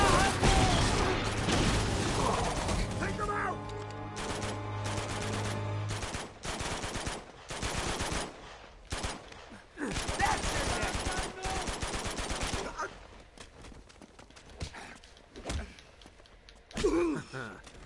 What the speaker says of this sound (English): I do really like these games, but there is a lot of shooting